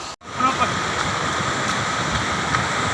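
High, fast river water rushing over stones makes a continuous roar close by, interrupted only by a short gap at the start.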